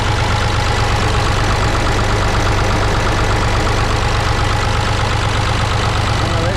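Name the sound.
Ruston Bucyrus 10RB excavator engine starting and running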